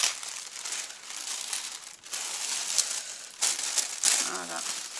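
Packing paper being unwrapped from a shabby chic home-decor order, a close, continuous crinkling and crumpling with a few louder rustling bursts, no talking.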